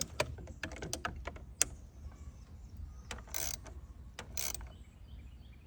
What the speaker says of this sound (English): Click, click, click, click. Yeah, that was the torque.